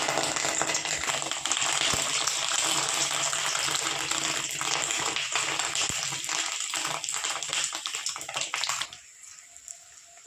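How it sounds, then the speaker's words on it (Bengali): Fish roe fritters sizzling in hot oil in a pan over a medium gas flame, a loud steady hiss and crackle that runs unbroken, then drops off sharply near the end. "এবার আমি এক এক করে মাছের ডিমগুলো ভেজে নেবো"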